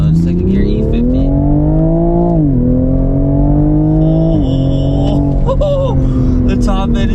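A tuned Toyota Supra in manual mode pulls hard in second gear, its engine note climbing loudly and steadily with two brief dips as it surges, recorded up close from inside the cabin, with a voice exclaiming near the end.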